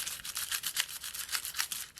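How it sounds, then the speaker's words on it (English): A small stiff-bristle nail scrub brush is rubbed briskly back and forth over a surface, giving a steady, rhythmic scratchy swish heard up close and fairly soft. "I'm going to use my little nail scrub brush"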